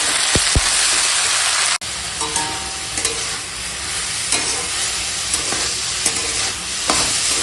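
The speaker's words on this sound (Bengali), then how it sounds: "দেখো শাকটা এখন নেড়ে নেড়ে রান্না করছি" Red amaranth greens with turmeric and salt stirred over heat in a pan, a loud dense sizzle with repeated scraping strokes and a brief sharp break near the start, no speech.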